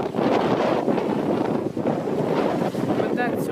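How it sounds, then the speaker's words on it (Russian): Strong wind on the Black Sea shore at Luzanovka beach in Odessa buffets the microphone in a constant loud roar with gusting surges, alone with no pauses. "Вода теплая, песок теплый, но очень сильный ветер."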